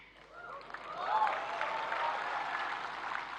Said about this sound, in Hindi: पुरुष ताली बजा रहे हैं